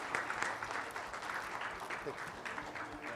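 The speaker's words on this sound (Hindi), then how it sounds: "जोरदार तालियां हो जाए प्लीज उनके लिए भी" Applause from the crowd at a Bollywood film music release event as a singer is invited onto the stage, a busy continuous patter of many hands, with a voice talking over it.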